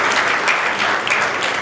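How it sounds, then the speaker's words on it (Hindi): Steady, dense applause from an audience at a teacher and student award ceremony held at a college, continuous clapping filling the short stretch at close range with no voices. "जोरदार तालियां बजाइए"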